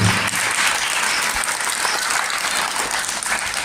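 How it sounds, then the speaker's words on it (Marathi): Parents give loud, sustained applause for kindergarten teachers at a pre-primary annual prize-distribution function in a high school, a dense crowd of hands clapping steadily with no talk. "पालकांनी जोरदार टाळ्या वाजवा यांच्यासाठी"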